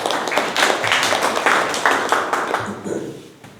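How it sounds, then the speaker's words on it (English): An audience at a Toastmasters meeting claps for a few seconds, a moderate patter of hands in a room that tapers off at the end. "Applause for Toastmaster Vivekananda"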